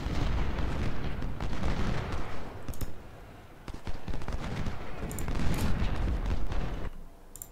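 Cannon artillery fire in the Ultimate General: Civil War battle game at 2nd Bull Run: dense, rumbling volleys of booms that overlap almost without pause and ease off briefly partway through.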